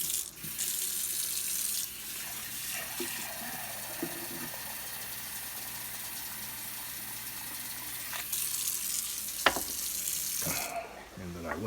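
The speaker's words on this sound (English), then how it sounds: "is I fill up 2 cups of water." Water runs steadily from a kitchen tap to fill a cup for making vegetable stock, a continuous hiss of stream and splash with a brief pause and a few clinks near the end.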